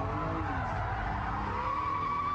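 A car spinning a handbrake-assisted donut, its tyres skidding and squealing continuously over a close, steady engine drone, loud and unbroken for a couple of seconds with no talk.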